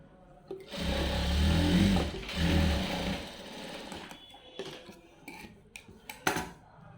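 A tailoring sewing machine runs a second line of stitching in two loud whirring bursts, then stops, followed by scattered light clicks and taps of handling the fabric and machine.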